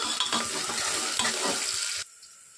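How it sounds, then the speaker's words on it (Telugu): Chopped green chillies drop into onions frying in oil for an Andhra desi chicken curry, raising a loud close sizzle with stirring scrapes that cuts off abruptly into near silence. "ఆనియన్స్ కొద్దిగా ఫ్రై అయిన తర్వాత కట్ చేసి పెట్టుకున్నటువంటి పచ్చిమిర్చిని వేసుకుంటున్నాను"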